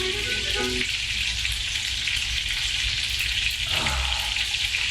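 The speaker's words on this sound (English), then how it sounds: "It's the sound of meatballs frying in the stove." Constant crackling sizzle of meatballs frying in hot oil, loud and close, with a brief clink of a utensil.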